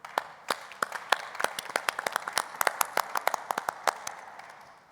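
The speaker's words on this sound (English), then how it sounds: "I really think it deserves a round of applause." Applause from a modest audience at an investment panel discussion on Mozambique during an energy week event, sparse distinct claps from a few people building into a quicker, uneven patter before fading out.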